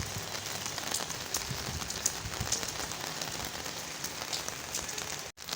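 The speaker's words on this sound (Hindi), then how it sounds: "अभी मैं अभी आया हूँ ऊपर क्योंकि बहुत तेज़ बारिश लगी हुई है गाइस।" Heavy monsoon rain pounds a rooftop terrace, a loud, steady, close hiss of drops with scattered brighter splashes and no talking.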